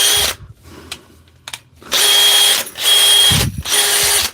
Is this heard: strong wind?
no